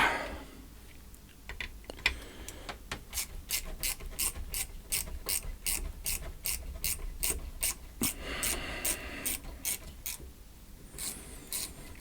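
Cheap Lidl pliers grip and turn a nut inside a dead JBL PRX518S powered subwoofer, giving a long run of sharp, evenly spaced ratcheting clicks, close and moderately loud, with a short pause midway and no talking.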